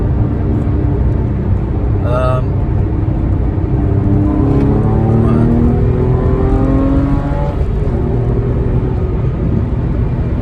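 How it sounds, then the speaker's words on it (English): Porsche 997 engine droning and rising in pitch as the throttle opens on a Sunday morning drive, steady and loud throughout with harmonics climbing mid-clip, a voice talking faintly underneath. "open the throttle a little bit, test out my driving skills a little bit"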